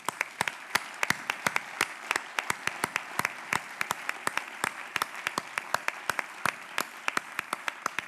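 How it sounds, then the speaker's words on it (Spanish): Scattered hands clapping in a hall at a journalism awards gala, sharp individual claps in an uneven rhythm, moderately close and without cheering. "Un aplauso para ellos también"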